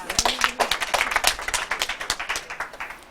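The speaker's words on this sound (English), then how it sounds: "Y'all clap for that because that's amazing." Clapping comes from an audience at a Black CEO business event, a quick series of distinct hand claps from a small group that rises and thins out without settling into full applause.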